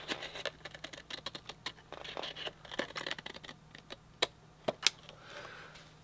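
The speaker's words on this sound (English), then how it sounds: "And I should be able to take my scissors" Scissors trim the edge of a paper scrapbook page in a quiet room, giving a run of soft, close snips and rustles with a few sharper clicks near the end.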